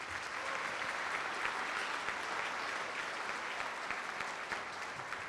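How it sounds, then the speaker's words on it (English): Graduates at the Bucks County Community College 2022 commencement ceremony applauding, a steady, dense wash of many hands clapping together that holds evenly throughout. "So give yourselves a round of applause."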